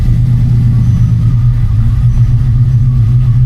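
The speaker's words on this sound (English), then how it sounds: "This thing definitely has adequate power to move this truck, and sounds really nice as well." 1967 Chevrolet C10 truck with an LS-swapped 5.3 V8 and 4L80 transmission, a loud, deep, steady engine rumble close by, without voices.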